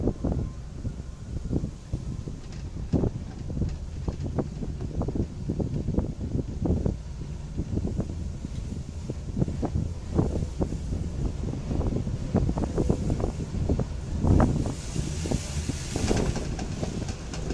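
Wind buffets the microphone at Ocean Park, Hong Kong, up on a hilltop near a ride station. The gusts rumble steadily and heavily, with frequent low thumps and a rushing layer throughout.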